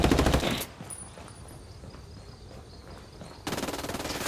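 Rapid automatic gunfire from the video game Ghost Recon Wildlands: loud, dense bursts open and close the stretch, with a quieter, hissing lull between them.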